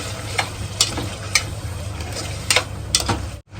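Water poured into a hot pan of peeled potato curry with crushed peanuts, giving a steady sizzle with light scraping and clicking stirring sounds at uneven intervals, close up.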